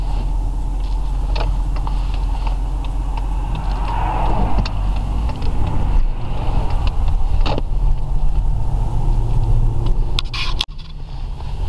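Lexus LS 430 engine idling on LPG gas, a steady close rumbling hum with slight mechanical creaks, continuous and loud, with a brief dip and bump near the end.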